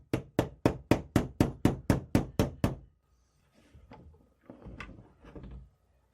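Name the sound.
hammer setting pin in rifle bayonet lug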